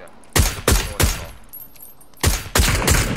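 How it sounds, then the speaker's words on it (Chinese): Gunshots from PUBG on the Erangel map come in sharp, loud bursts: three quick shots, a pause, then two more close together. "听到这个枪声"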